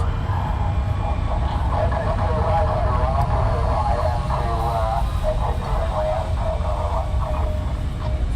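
Avro Vulcan XL426 bomber taxiing at Southend airport on its 60th birthday, a steady loud jet engine roar filling the whole stretch with a rising whine, and voices talking over it.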